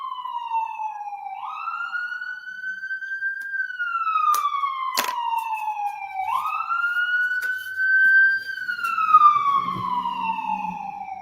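A police siren wails in long rising and falling sweeps, steady and clear, with a few brief clicks and a low rumble near the end.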